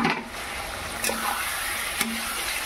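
Fried pointed gourd tipped into a pan of cooking masala: a steady hiss and sizzle with a soft stirring scrape and a couple of small knocks against the pan.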